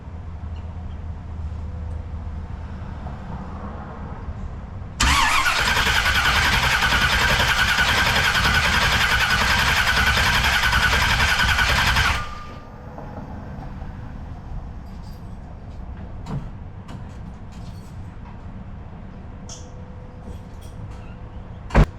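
An engine's starter cranks for several seconds in a loud, steady whir to build oil pressure, then cuts off, leaving a quieter background with a sharp click at the end.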